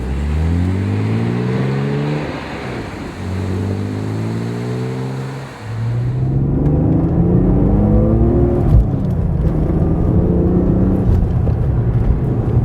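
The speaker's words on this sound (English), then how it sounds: "Let's go for a drive and you'll see how great this car runs." A supercharged BMW E36 M3 with a Dinan Stage II kit, lightweight flywheel and Kevlar carbon clutch accelerates hard through several gears, its engine climbing in pitch with shifts between pulls, loud and heard from inside the car.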